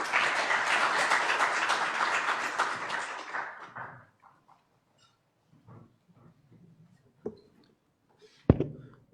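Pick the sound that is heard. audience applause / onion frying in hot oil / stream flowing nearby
audience applause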